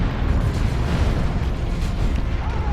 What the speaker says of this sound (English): Coming artillery strike.